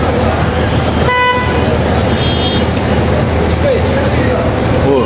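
Busy night traffic outside the Makarem Ajyad hotel in Mecca: a continuous roar of buses and cars with one short horn toot early on, a crowded, dense wash of road noise.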